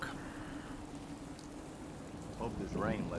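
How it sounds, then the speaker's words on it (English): Steady rain falls in the video game Fallout 4, a soft continuous patter, with brief voice-like sounds near the end. "Hope this rain lets up soon."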